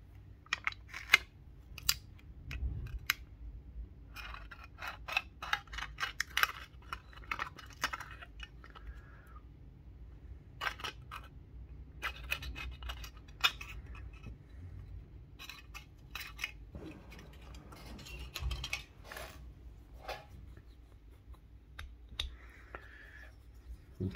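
Trimming around the edge of a casing piece for a uSDX HF transceiver build, heard as a long run of close, sharp snips and clicks in irregular bursts, with no talking.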